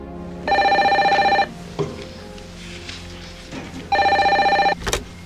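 A mobile phone rings in two bursts of electronic ringtone at home, loud and close, separated by a quiet pause with faint handling noises.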